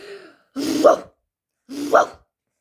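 Two short, gruff dog growls come up close, separated by a brief silence.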